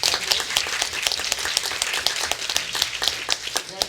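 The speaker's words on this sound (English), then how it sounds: "give them a round of applause" A small audience at a business association candidate forum claps for the candidates, scattered individual hand claps overlapping in a steady, moderately loud patter across the whole stretch.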